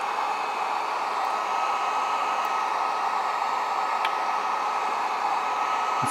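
A heat gun on its low setting blows hot air while glue is softened to pull away a damaged RV fresh water tank, making a constant close rushing hiss with an even fan tone and a couple of faint clicks.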